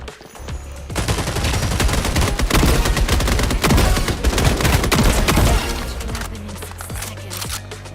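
Explosive-round gunfire in the shooter video game Splitgate 2, a dense, loud sustained barrage of rapid shots and blasts lasting several seconds, then tapering into a few scattered softer hits.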